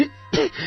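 A single short throat-clearing cough from someone with medicine stuck in the throat, abrupt and close, rising to a strained rasp before fading.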